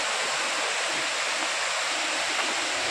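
A waterfall pours steadily into deep gorges, heard from a bridge below it: a dense, continuous broadband rush of falling water, loud and unbroken, with no voices over it.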